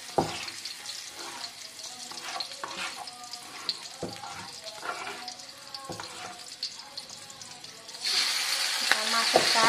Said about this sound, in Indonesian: Kita kasih minyak goreng sedikit buat menumis bumbunya